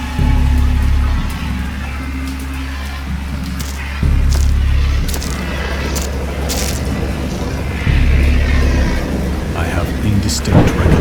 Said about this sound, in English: I know that I heard bells of thunder and other tones which nature utters only in her wildest moods.